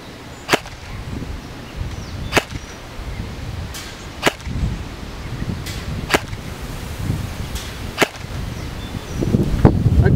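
Elite Force PDW airsoft gun fired at long range with hop-up, giving five sharp, spaced single shots over faint outdoor background.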